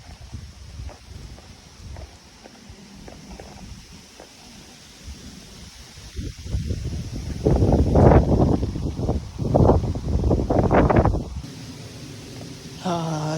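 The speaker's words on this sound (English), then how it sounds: "It's really windy." Strong wind roars outdoors by the water during fishing before a heavy rainstorm, steady broadband buffeting that swells loud in gusts in the second half, with brief talk early on.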